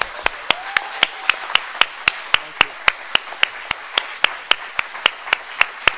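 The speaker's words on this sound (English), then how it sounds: "If you are in agreement, please clap and show your agreement today" Sharp, evenly spaced claps in unison from an audience backing a resolution in defence of Salman Rushdie, a steady rhythmic beat of single hand strikes repeating for several seconds.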